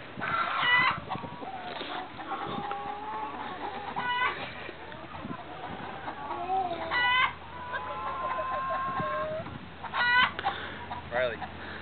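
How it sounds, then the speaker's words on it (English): Chickens clucking and a rooster crowing in a farmyard, with repeated bursts of calls over a noisy background and some voices mixed in. "It's the freaking chickens, man!"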